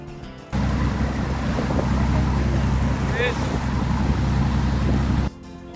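Forty-year-old motor boat heading between the piers toward the marina: a steady, loud engine drone mixed with wind and water rush for several seconds, starting and stopping abruptly, with a brief faint chirp partway through.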